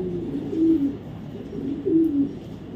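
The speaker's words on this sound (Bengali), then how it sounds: "একটা হোয়াইট রেসার একটা ফিমেল কবুতর" A white racer female pigeon coos twice, low soft burbling calls close to the microphone, separated by about a second of quiet room hum.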